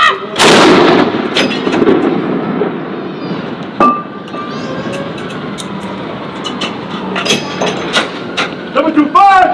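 Ceremonial cannon salute fired jointly by US and UK soldiers at Edinburgh Castle, a loud booming blast near the start with a long rumbling echo, then a second report, with crowd murmur and shouted commands in the background.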